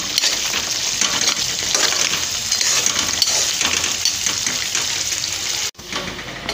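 Masala with cream and yogurt frying and being stirred in a pan, a dense continuous sizzle close up with stirring noises and a brief break near the end, no voices.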